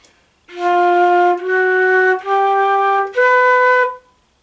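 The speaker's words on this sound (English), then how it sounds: "If I skip a note and play it incorrectly," Four clear flute notes climb a chromatic scale in steps, a note skipped so the last jumps noticeably higher than the rest, played close with short breaks between notes.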